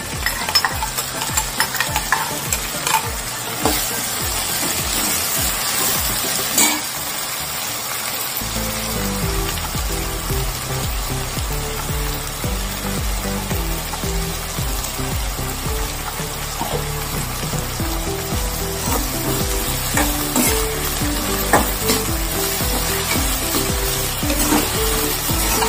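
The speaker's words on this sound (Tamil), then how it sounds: "வெண்டிக்காய் வதங்கிடுச்சு, தக்காளியை ஊற்றிக்கிறேன்." Okra frying in a pan as blended tomato puree is poured in and stirred, steady loud sizzling with scraping stir strokes whose tone softens and thickens partway through, alone without talk.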